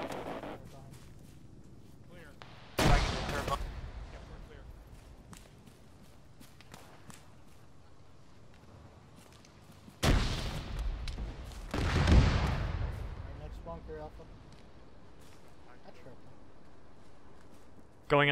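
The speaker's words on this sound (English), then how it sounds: "I got a frag going in the bunker" A frag grenade bursting inside a bunker in a tactical military shooter, a sudden loud blast with a rumbling tail, set between footsteps, further heavy impacts and scattered radio talk.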